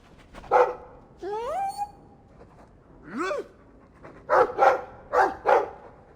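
A dog in the Dragon Age 2 video game pants and gives short yips and whiny rising whimper calls, a series of close, clear vocal bursts with quiet gaps between them.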